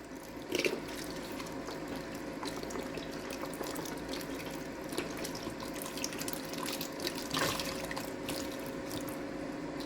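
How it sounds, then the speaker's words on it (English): Chicken broth and water pour into an Instant Pot or Ninja Foodi for southern-style minestrone, a steady close liquid splash running without pause, with a couple of brief louder sloshes. "I'm going to add some broth and water"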